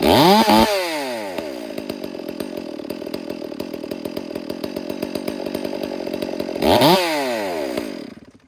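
A chainsaw engine undergoing carburetor tuning revs up sharply, drops into a long, rapid, even putter at idle, then revs briefly again before cutting out, all close and unaccompanied.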